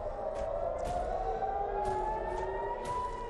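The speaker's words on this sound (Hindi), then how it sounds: "इजराइल में सायरन गूंजने लगते हैं।" A wailing air raid siren in Israel during an Iranian missile attack drones steadily in the distance, its pitch slowly sliding, with several overlapping tones and no talking.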